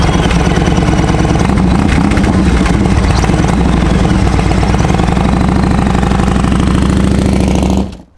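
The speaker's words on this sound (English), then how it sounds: "with a giant V-twin motor" A Yamaha motorcycle with a giant V-twin engine, the biggest Yamaha has fitted to a bike, idles loud and close with a steady, thick low rumble for about eight seconds before cutting off abruptly.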